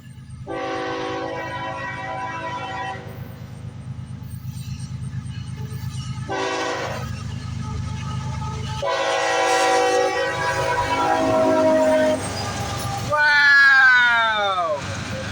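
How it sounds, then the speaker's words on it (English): A CSX freight train passes a lowered railroad crossing, its horn sounding in several loud, sustained blasts, first in short bursts and then longer held chords, with the rumble of rolling cars continuing underneath and a voice briefly heard. "We heard a train coming."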